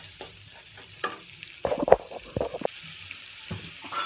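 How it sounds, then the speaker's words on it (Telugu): Onions frying in a pan for a bitter gourd stir-fry make a soft sizzle beneath clunky spatula scrapes and knocks against the pan, with the busiest stirring near the middle. "ఇప్పుడు నేను దీంట్లో ఆనియన్ యాడ్ చేస్తున్నానండి. ఆనియన్ని బాగా ఫ్రై చేసుకోవాలండి."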